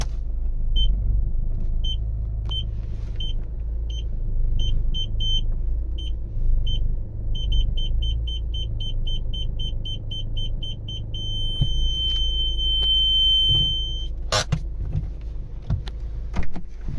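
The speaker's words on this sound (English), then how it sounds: "You can hear the beep." Short electronic rear parking sensor beeps on a VW Golf repeat over a low engine rumble, spaced out at first, then quickening until they merge into one continuous tone.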